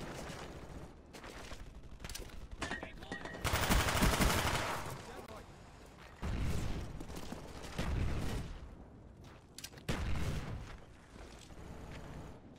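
Enfield rifle gunfire in the shooter Black Ops 1, loud close bursts of rapid shots recurring several times amid background game sounds and explosions.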